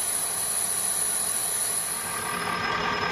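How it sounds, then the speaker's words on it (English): A Colchester lathe hogs 17-4 PH H1025 stainless steel, taking a 3 mm pass at 900 rpm, giving a steady, loud machining roar with a high whine and hiss throughout, no voices. "now we're taking 3mm off the diameter in one pass"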